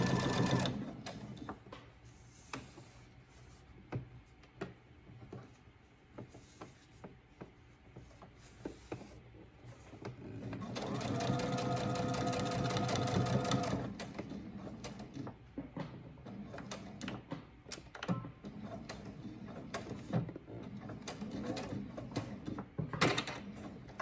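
Home sewing machine stitching a garment seam in short irregular bursts, with a longer steady run in the middle and clicks and handling noises between, fairly quiet and close.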